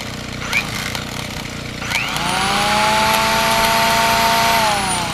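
A Cobra Crusher machine grinding gravel into sand starts up and ramps to a loud, sustained whine with a steady mechanical roar, close by, with no talking.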